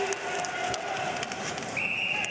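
A referee's whistle at an international ice hockey game sounds as a long held tone over arena crowd noise, then rises to a higher pitch toward the end.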